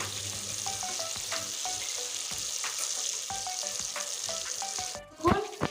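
Potatoes fry in a pan with a continuous bright sizzle and scattered crackles and pops, then a brief louder clatter near the end.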